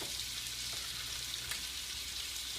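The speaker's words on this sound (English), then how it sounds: "We're going to add the butter in," Butter and Brussels sprouts sizzle in a hot pan with a steady, even crackle and a low hum beneath, continuous for the whole stretch with no talking.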